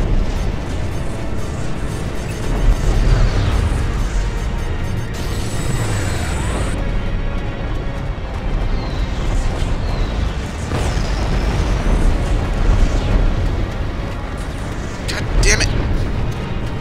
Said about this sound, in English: A lot of torpedoes are gonna hit.